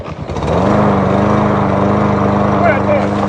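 A lawn mower's small petrol engine cranks briefly, then catches and runs loud and steady at close range, a buzzing drone that holds for a few seconds.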